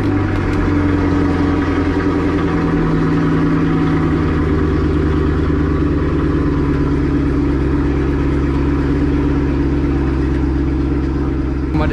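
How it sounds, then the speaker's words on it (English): A Chevrolet Camaro ZL1 engine runs steadily after starting, a loud, close, continuous low rumble that settles into an even idle with a slight drop in pitch partway through. "let's do the next step, and it's actually turning on the vehicle"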